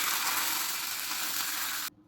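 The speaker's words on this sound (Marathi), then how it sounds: "कढीपत्ता घालूया" Curry leaves hitting hot oil in a tempering with cumin and green chillies, a bright hissing sizzle that holds steady for about two seconds then cuts off abruptly.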